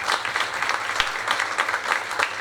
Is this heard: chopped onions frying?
no